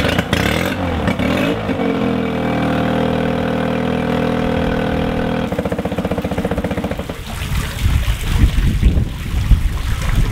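A Honda BF10 outboard boat engine runs steadily with a droning hum, its tone shifting partway through into a rougher, pulsing idle, with some wind buffeting near the end.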